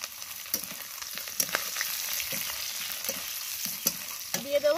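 Fried potatoes are tipped into a pan of fish curry with spices, bringing a close crackling fry and several scraping stirs and knocks against the pan.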